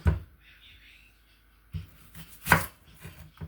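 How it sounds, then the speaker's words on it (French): Knife chopping a large onion on a board, a few sharp isolated cuts close by with quiet gaps between them, one stronger thud near the end. "je vais découper un oignon"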